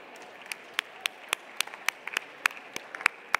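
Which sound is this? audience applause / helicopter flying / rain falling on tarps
audience applause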